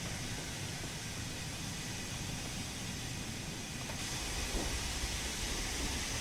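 Steam train running on the West Coast Mainline in Train Sim World 2, a continuous broad rumble and hiss with no distinct beats, steady and moderately loud throughout.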